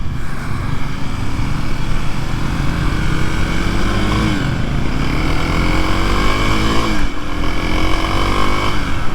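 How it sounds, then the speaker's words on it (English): A Kawasaki KLX 300SM motorcycle engine runs loud and close with a steady, gravelly drone, the pitch shifting slightly as it rises and dips a couple of times. "Definitely the motor sounds different on this."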